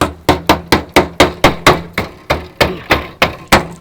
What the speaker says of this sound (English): Just beating it, clean it up.